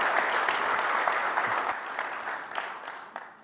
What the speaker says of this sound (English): can you all give a round of applause to Alan for sharing that story?